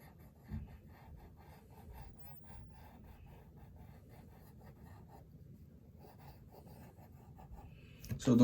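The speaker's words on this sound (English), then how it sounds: "Draw another circle here." Soft scratching of pencil on paper goes on quietly while a cartoon-style figure is drawn, made of faint, irregular strokes with a slightly louder scrape near the end.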